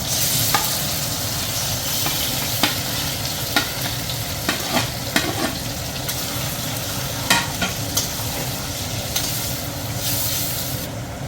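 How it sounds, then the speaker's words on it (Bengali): Marinated mutton cooked factory-style for Vishwakarma Puja sizzles steadily in a hot pan, with repeated sharp scrapes and clinks of a spoon stirring the meat throughout. "ম্যারিনেট করা মাটন ঢেলে দেওয়া হলো"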